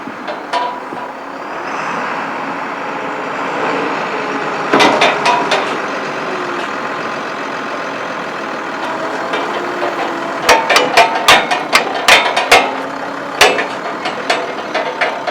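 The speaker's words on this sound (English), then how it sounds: "To stow this, he's going to suck it all the way in. He's going to boom down" A digger derrick utility truck idles with a steady engine drone while its hydraulic boom retracts and lowers, with scattered sharp mechanical clicks and clunks growing more frequent toward the end.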